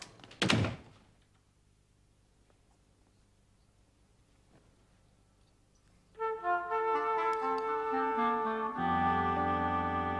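A front door thumps shut once as someone leaves a house, a single loud close near the start followed by quiet room tone, before unrelated music swells in later.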